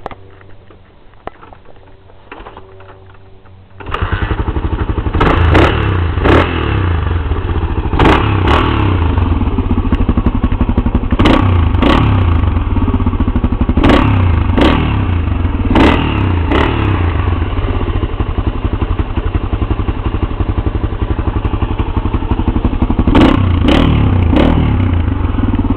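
1984 Honda XR350R dirt bike: a few quiet mechanical fumbles, then the engine catches and runs loud and steady close by, with sharp crackling pops and throttle blips recurring throughout.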